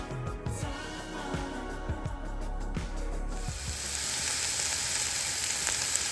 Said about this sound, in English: I'm gonna let these saute down about 8 minutes